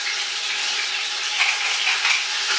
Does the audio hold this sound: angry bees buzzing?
no